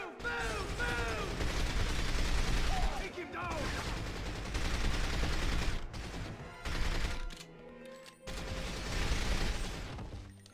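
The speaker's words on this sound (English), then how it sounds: "The gunshots aren't too loud." Gunfire from the video game 007: From Russia with Love crackles in bursts and single shots alongside mechanical clanks, at moderate volume, while voices talk over the game.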